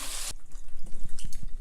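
Cold tap water pours into a kitchen sink over pasta, starting as a loud rushing stream that cuts off abruptly and gives way to softer sloshing and dripping as the pasta is stirred.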